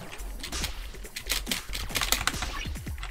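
Rapid keyboard typing during computer gameplay, clattering key presses in quick irregular bursts, close and fairly loud, with no talking.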